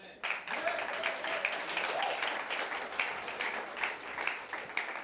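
Church congregation applauding during a sermon, a continuous dense clapping from many hands with voices mixed in, close and sustained across the whole span.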